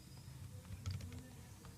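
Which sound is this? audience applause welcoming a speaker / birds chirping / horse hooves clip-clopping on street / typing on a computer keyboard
typing on a computer keyboard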